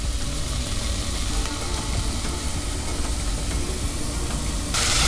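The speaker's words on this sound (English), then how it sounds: "So just continue to give it a stir as the rest of your veggies saute" Garlic and vegetables sauté in a saucepan with a dense, constant hiss and crackle, close and fairly loud, brightening slightly near the end.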